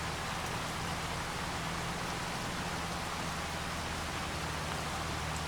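Steady rain falls outdoors on a farm, a dense, even hiss with no gaps, moderately loud and constant, with a faint low hum underneath and no voices.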